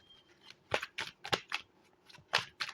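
Tarot cards are shuffled and drawn, producing a series of short crisp papery flicks and slaps, about seven close quiet bursts in an irregular rhythm.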